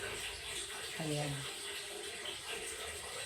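Steady rain pours as a mother and her young child bathe outdoors in it, a constant hissing wash of falling water with a voice briefly heard over it.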